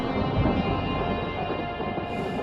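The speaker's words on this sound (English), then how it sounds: "Sound of the loudest thunder jerks you out of your slumber." Loud thunder in the video game Rue Valley, a heavy sustained rumble that fills the whole stretch with a rain-like hiss over it, no speech.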